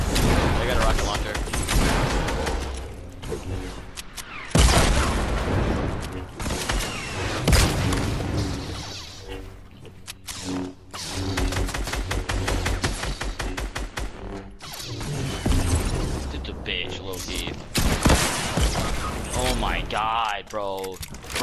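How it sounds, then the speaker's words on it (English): Rocket launcher explosions and gunfire in a squad video game match, dense and continuous with heavy booms and bursts of shots, mixed under frequent overlapping voices talking throughout. "They got a rocket launcher."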